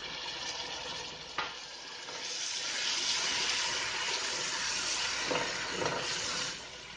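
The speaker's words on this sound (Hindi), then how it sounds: "लहसुन अदरक को भी बस 1 से 2 मिनट तक पकाना है और इसमें टमाटर ऐड कर देना है" Garlic and ginger paste frying in a pan, with tomatoes being added. A steady, quiet sizzling hiss runs throughout, with a couple of brief stirring scrapes.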